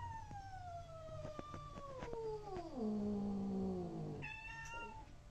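A cat caterwauls indoors with one long, drawn-out yowl that slides downward in pitch and swells, followed by a shorter rising wail, fairly faint and alone with no talking.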